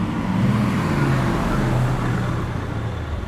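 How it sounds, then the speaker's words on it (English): A car drives along a city street in the Nagahoribashi and Amemura area, its engine giving a steady, close, low rumble that fades slightly at the end, with no talking. "That's a nice car."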